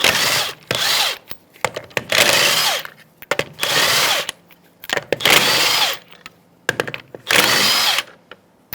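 Power tool spinning off the lug nuts on the rear wheel of a 2000-2007 Ford Taurus with a 19mm socket, in five loud, close bursts of whirring and rattling, each lasting about a second, separated by short pauses.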